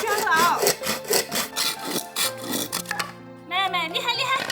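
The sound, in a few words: hand saw cutting wood outdoors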